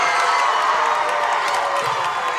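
A packed gym crowd at a unified basketball state championship game roars and cheers after a three-pointer, a loud sustained wall of shouting and whoops with scattered clapping throughout.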